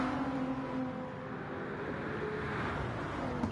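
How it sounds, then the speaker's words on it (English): A Lexus RC F GT3 race car at Mount Panorama gives a faint, steady engine drone that stays even throughout, heard from a distance. "that Lexus RCF makes a fantastic noise"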